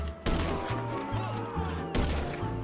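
Two sharp gunshots in GTA V ring out about two seconds apart, each a loud crack with a ringing tail, over a low pulsing tone.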